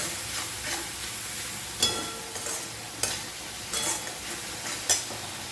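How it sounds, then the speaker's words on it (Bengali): Stirring and frying in a pan for pabda fish curry with eggplant and black cumin, spiced with red chili powder and salt: a continuous sizzle broken by several sharp scraping strokes of the spoon against the pan. "এবার এগুলো কিছুখানি নেড়ে নেবো"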